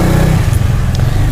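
A motorcycle rumbles steadily close by outside a podcast studio in Indonesia, a low engine drone filling the whole short moment with no talk over it.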